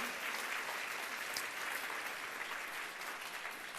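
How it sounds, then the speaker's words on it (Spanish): A church congregation applauds together, a steady, dense wash of many hands clapping that holds evenly at moderate loudness throughout. "Alguien aquí le tendría que dar un aplauso fuerte al justo, que es nuestro Señor Jesucristo."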